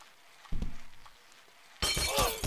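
Glass shatters in the Happy Wheels video game, with a low impact thump first and then a loud, bright burst of breaking, tinkling glass close up.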